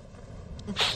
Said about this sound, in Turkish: Bir kere hapşırdın ve 3 metre yukarı zıpladın.